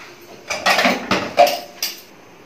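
Pots, pans and cutlery clatter as dishes are washed in a home kitchen: a few sharp metallic clanks and rattles in quick bursts, close and fairly loud, with no talking.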